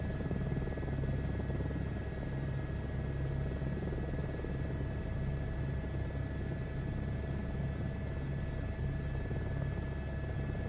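An H125 helicopter in a VR flight game gives a steady, even rotor and engine drone with a constant buzzing hum, moderate and unbroken throughout.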